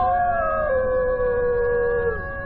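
A dog howls in a long, drawn-out wail that slides downward in pitch near its end, close and clear over a faint low background, used as a horror sound effect.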